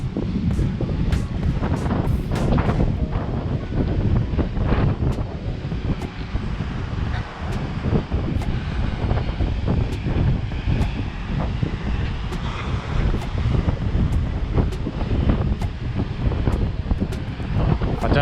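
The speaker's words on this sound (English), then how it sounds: "Inevitably there's going to be some wind here." Strong, continuous wind blows across the sand dunes of Fraser Island, roaring and buffeting the microphone without a break for the whole stretch.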